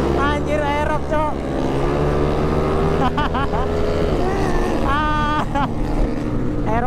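A Yamaha Aerox 300cc scooter is ridden at speed, its engine droning loud and steady with rising and falling revs, mixed with wind rush and passing traffic.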